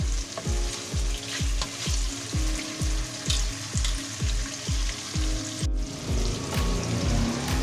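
Tofu (tokwa) frying in oil until golden brown, a steady broadband sizzle with regular rhythmic scraping or stirring knocks throughout, close and fairly loud, no talking.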